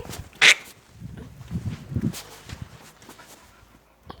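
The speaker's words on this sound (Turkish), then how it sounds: "Köpeklerimi buldum." A dog gives one loud, close bark, followed by softer movement, panting and shuffling sounds nearby.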